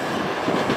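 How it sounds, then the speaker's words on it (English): A freight train rolls out of a rail yard, its steady rumble of wheels and cars filling the short stretch at close range with no voices. "Holy moly, we got a train pulling out."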